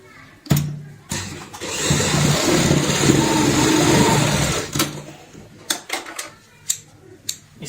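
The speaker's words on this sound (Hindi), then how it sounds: "और इसमें सीधी सिलाई लगा देंगे।" A sewing machine runs a straight stitch through old shirt fabric while making a shopping bag: one steady, close whirring burst of about three seconds, with brief speech and handling noises before and after.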